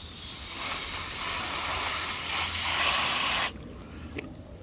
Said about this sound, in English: So we're gonna go ahead and spray it on the inside as well.